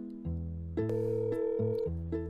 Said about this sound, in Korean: 전화 왔었다